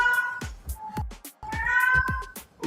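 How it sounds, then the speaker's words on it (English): A cat meows close to the microphone, giving two drawn-out, wavering cries separated by a short pause in an indoor room. "Ignore my cat, please."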